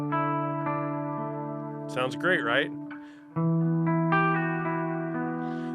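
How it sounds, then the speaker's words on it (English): Collings LC electric guitar on a clean setting with a touch of reverb, sustained notes ringing before and after a short stretch where someone talks over it, then a fresh strum rings on steadily. "Got a little bit of reverb going on there."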